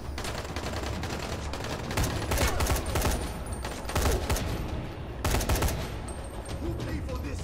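Dense bursts of video game gunfire in Dying Light 2, loud and close, with rapid repeated shots and volleys across the whole stretch and brief louder peaks.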